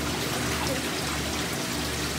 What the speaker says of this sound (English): let's first get water in the bag